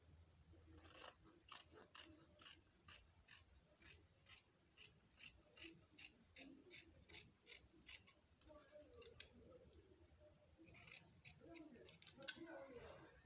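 Scissors snip through fabric while a kimono robe neckline is being cut out, a steady run of about twenty crisp, evenly spaced close snips, then a pause with soft handling and a few more quick cuts.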